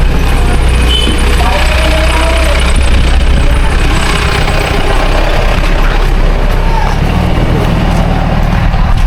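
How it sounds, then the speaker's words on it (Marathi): Crowded rural bullock mud-ploughing race ground packed with vehicles and trucks, a loud continuous engine rumble and idling drone with a crowd murmur and nearby voices over it. "सगळीकडे गाड्याच गाड्या."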